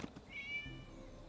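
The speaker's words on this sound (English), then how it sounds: "It was just a cat." A cat in the video game Genshin Impact lets out a single short, high meow, faint and alone against a quiet background.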